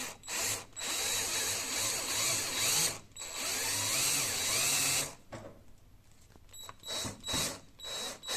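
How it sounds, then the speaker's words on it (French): A power drill bores a hole while a manual roller shutter's crank handle is being replaced, whining in long loud near bursts with short pauses between, ending in a quieter stretch of light handling clicks. "Maintenant, je vais venir percer."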